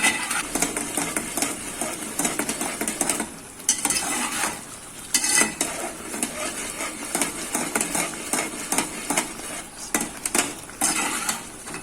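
Continuous scraping and stirring of semolina roasting in a pan over full flame, with a steady sizzle, a utensil clinking and rasping against metal throughout, fairly loud and close.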